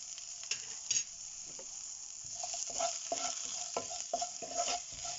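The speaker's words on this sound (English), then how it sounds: "You need to fry them until onions slightly fry." Onions frying in a pan for a sweet corn masala curry make a steady crackling sizzle, broken by scraping and tapping as a utensil stirs them. It is close and continuous, with no voices.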